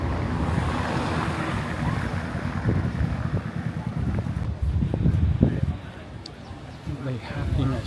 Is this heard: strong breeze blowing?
yes